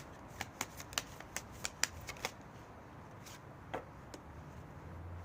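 Cards are shuffled for a tarot-style reading, heard as a rapid run of sharp, close card snaps and flicks, then a few isolated softer clicks trailing off over low room noise.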